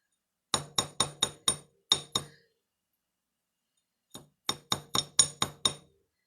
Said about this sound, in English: This is where that little frets hammer comes in handy because it's smaller.